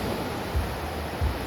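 Ocean waves wash steadily onto Chivla beach at night, a constant broad surf roar with two faint low thumps.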